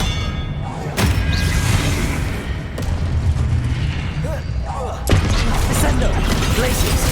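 Hogwarts Legacy spell effects for Confringo and Expelliarmus on PC: two sharp magical blasts crack out, one early and one later, over a dense rumbling game soundscape with low booms and thuds.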